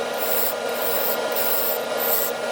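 Padauk bowl spinning on a wood lathe, giving a steady close whooshing rub that sweeps in regular pulses as it turns, with no voices.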